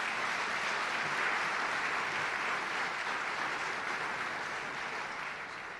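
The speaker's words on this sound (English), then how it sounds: "So let's give them a round of applause." Audience applause at an evening women's event, thanking the restaurants that supplied the food: steady, dense clapping from a crowd, heard at a distance and fairly quiet, holding even for several seconds before easing slightly at the end.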